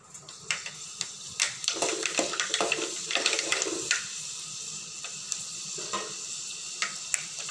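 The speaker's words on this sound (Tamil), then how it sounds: "ஆயில் காஞ்ச உடனே வெந்தயம் போட்டு தாளிச்சிக்கணும்" Fenugreek seeds crackling in hot oil in a pot for tempering a karachuvitta meen kuzhambu, light popping and sizzling with scattered clinks of a spoon against the vessel, fairly quiet and close.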